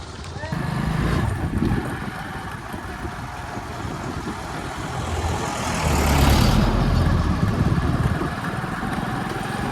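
A small vehicle sets off to carry milk cans to a dairy, its engine droning steadily close by for the whole stretch and swelling louder midway, with voices talking over it.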